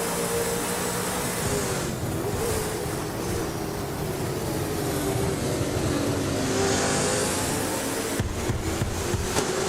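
Race cars in a video game roar along in a dense, steady drone of revving engines that lasts throughout. The pitch swells and dips as cars run close together, and several quick passing bursts come near the end.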